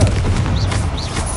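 Confringo spell blasts in Hogwarts Legacy, a deep booming rumble with a couple of sharp whooshing bursts, loud and close, no voices over it.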